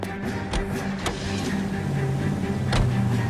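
A car driving in the video game L.A. Noire makes a steady, loud engine hum with a whirring tone. A few sharp clicks and thumps sound early on, and the engine rises slightly toward the end.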